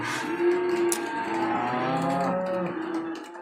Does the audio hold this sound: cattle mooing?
yes